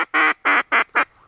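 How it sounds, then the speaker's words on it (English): A mallard duck gives four loud, close quacks in a quick series outdoors during a snowy blizzard, with a faint trailing call at the end. "Oh my god, a mallard."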